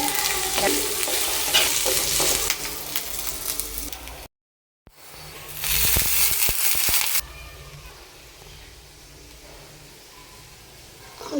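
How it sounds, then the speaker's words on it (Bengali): Onion, ginger and garlic frying on a stove for an egg bhuna, a steady loud sizzle with stirring scrapes, broken by a brief silence midway, then continuing more softly toward the end. "এখন আমি চুলায় পেঁয়াজ আদা রসুন"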